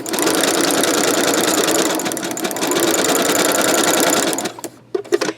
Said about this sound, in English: And I'm going to start sewing.